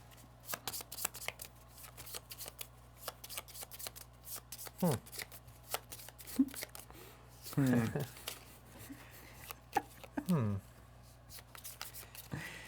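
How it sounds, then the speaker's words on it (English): Arkham Horror LCG cards being shuffled by hand, a run of quick riffling bursts and soft card slaps close by, with people talking intermittently over them. "And then I'm going to put these back in and shuffle up."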